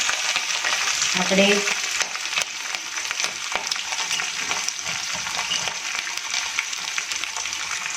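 Green chilies and curry leaves crackle and sizzle in hot oil for lemon rice, with stirring scrapes and spitting bursts that are loudest early, and a brief spoken word in the background.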